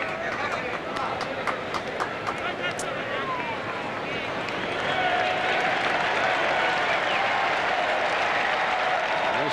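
Baseball stadium crowd at the 1991 All-Star Game in Toronto, a broad wash of cheering and clapping that swells louder midway, with claps and whistles standing out and a commentator talking over it.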